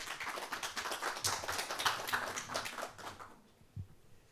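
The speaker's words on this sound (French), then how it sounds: "Sous vos applaudissements, mesdames, messieurs." Audience applause at a French university event on health data and artificial intelligence at Paris-Saclay, fairly faint and distant, a spread of claps that fades out with a final thump.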